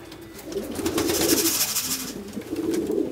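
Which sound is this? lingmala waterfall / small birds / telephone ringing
small birds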